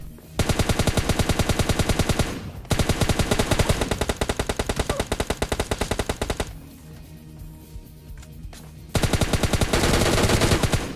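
Rapid automatic M4 rifle fire in the PUBG Lite video game, long loud bursts of fast shots with a brief lull and a quieter stretch before firing resumes.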